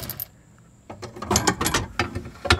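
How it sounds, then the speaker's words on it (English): Rapid mechanical clicking from a ratchet loosening the passenger-side fuel tank strap bolt on a GM 2.2L Ecotec Chevy Cavalier, close and fairly loud, coming in bursts after a brief quiet start. "we're going to pull this strap bolt the rest of the way now for the passenger side"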